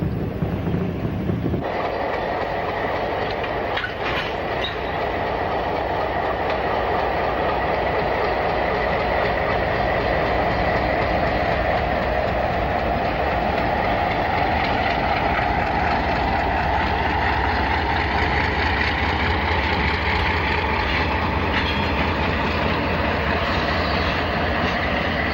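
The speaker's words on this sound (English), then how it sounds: "Local freight number 42 is busy switching the small yard." A local freight train switches a small rail yard on Mexico's Pacifico Railroad in Sinaloa, a loud, steady rumble of rolling cars and engine with faint wheel clatter, continuous throughout.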